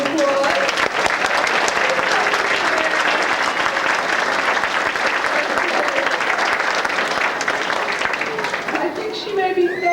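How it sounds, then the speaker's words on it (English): Audience applause at a 1998 kindergarten show, a dense, continuous clapping from a room full of people, loud and steady for the whole stretch, with scattered voices mixed in. "I think she deserves a round of applause."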